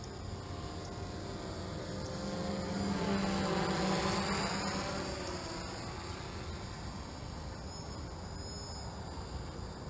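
A DJI F550 hexacopter drone flies nearby with a continuous high whirring buzz of its rotors, steady throughout and swelling briefly louder in the middle as it passes close.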